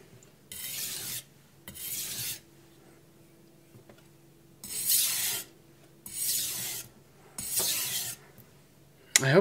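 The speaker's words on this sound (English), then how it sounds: "It's like the knife is skating a little bit on the surface," Kitchen knife being sharpened on a Chinese whetstone: five or six separate raspy grinding strokes, each about a second long with short pauses between, close and fairly loud with no talking.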